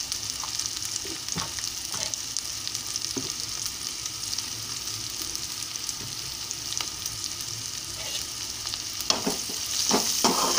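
Half a teaspoon of turmeric frying in hot oil for an okra curry, a continuous close sizzle with faint stirring clinks and a few louder scrapes near the end, no speech.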